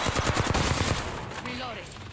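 Rapid gunfire aimed at the player in Apex Legends, a dense close burst of shots in the first second fading into game ambience, with some talk present.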